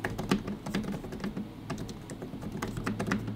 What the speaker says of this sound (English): I really enjoy typing on this keyboard